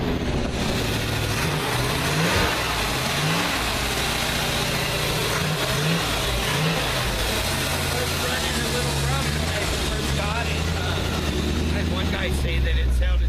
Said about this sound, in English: The truck's running real good.